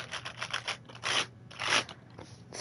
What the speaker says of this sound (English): Let me wipe off all the dust off this keyboard.